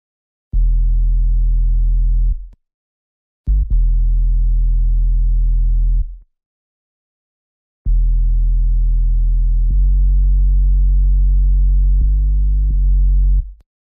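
Sub bass synth tone from FL Studio plays as long sustained low notes in separate phrases with short silent gaps, loud and clean with nothing else in the mix.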